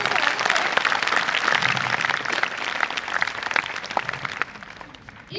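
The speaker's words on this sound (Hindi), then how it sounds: "जोरदार तालियों से" Loud applause rises from a college audience at a Children's Day program, a thick burst of many hands clapping that gradually thins toward the end, with some voices mixed into the crowd.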